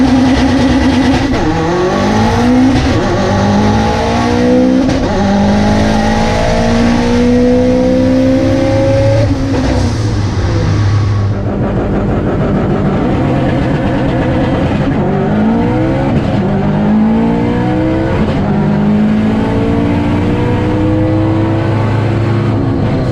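An 870whp Subaru STI race car with a triple-disc clutch on slicks roars loud and close, its engine revving hard through rising gear sweeps, easing briefly, then pulling up again in repeated climbing runs.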